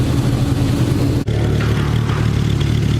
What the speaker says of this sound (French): on a une GT3 phase 1, attention, hein, avec un Akrapovic